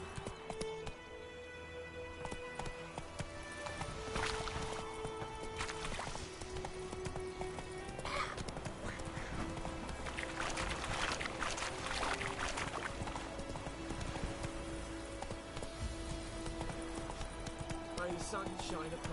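A horse gallops with rhythmic clip-clop hoofbeats in the Witcher 3 video game, running under steady game music and ambience, with brief bits of in-game speech.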